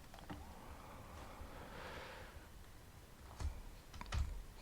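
A computer keyboard key is pressed with a few soft, close taps, one pair landing near the end, over a quiet background hiss.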